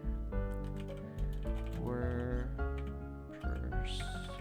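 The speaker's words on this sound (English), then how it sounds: "Why am I having so much problems typing today?" Quick clicks from a computer keyboard patter irregularly while someone types during a livestream, partly buried under loud tonal music.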